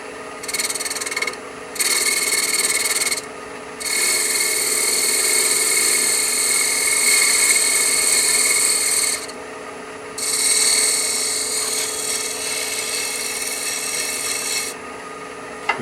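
A turning tool shear-scrapes a wooden bottle stopper spinning on a lathe, a loud, hissing rasp in several long passes separated by short pauses.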